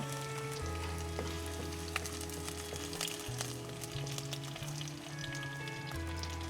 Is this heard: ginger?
yes